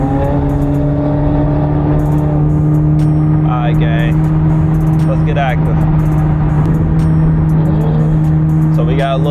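A Corvette's engine drones steadily nearby with a low constant hum, while a few short squeaky chirps cut through the background.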